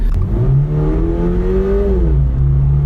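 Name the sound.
Toyota GR86 accelerating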